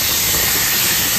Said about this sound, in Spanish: voy a colocar un poquito de aceite para freír mis chuletas